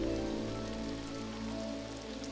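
Storm miracle shower pouring rain in the 2001 game Black & White, a steady, dense hiss of rainfall with a low rumbling bed, continuous and fairly close throughout with no voices.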